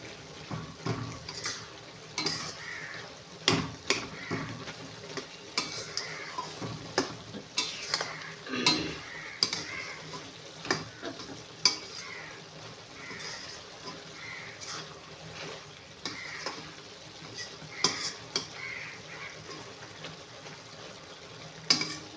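Mushroom masala sizzling in a pan while a spoon stirs and scrapes now and then, the frying steady and fairly quiet with occasional louder clinks.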